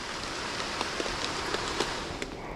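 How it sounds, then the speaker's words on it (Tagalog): Steady rain pours down in a dense, even hiss, with occasional louder drops tapping nearby surfaces. "Ulan na naman ano."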